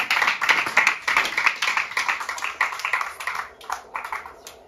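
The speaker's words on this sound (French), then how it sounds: "je vous demande de l'applaudir" A small audience claps for a slam poet being welcomed to the microphone, the individual claps distinct and slightly uneven, loud and close at first, then thinning toward the end.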